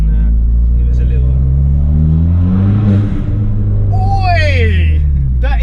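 A Ford Fiesta ST EcoBoost, tuned to Stage 1 at about 230 hp, revs inside a tunnel, giving a deep, loud, echoing engine roar that swells and fades. Voices talk over it.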